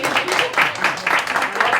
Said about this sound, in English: So I think that's a round of applause